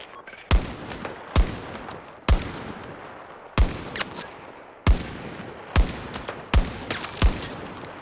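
DM7 rifle fired without a bipod in Battlefield 2042, nine sharp, loud shots at roughly even intervals, each cracking hard and followed by a short decaying tail.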